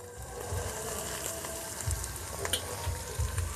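Kajal fish frying in a pan over low heat, a steady crackling sizzle running throughout with a few soft knocks, close and moderately loud, with no talking.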